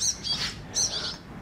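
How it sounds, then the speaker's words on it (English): Baby birds chirp from inside a small nest hole, two quick bursts of high, shrill, insistent peeping, close and clear with no talk. "Inside that little hole are a bunch of baby birds"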